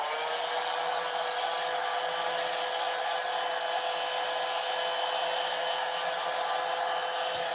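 A heat gun blows steadily at close range, putting out an even, unbroken rushing whine from start to finish.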